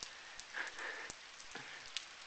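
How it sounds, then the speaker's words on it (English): Steady rain falling in the village of Tomaj, a soft continuous patter on surfaces with occasional louder drips and ticks, faint and even throughout. "it started to rain"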